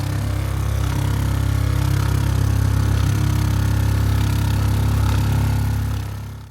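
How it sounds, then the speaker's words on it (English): A Flowjet water pump in a 2019 Baystar 3626 RV runs with a loud, continuous low drone and steady mechanical buzz, unbroken for several seconds before tapering slightly at the end, with no talk. "I just wanted to put the pump on so you can hear it from outside and then from inside"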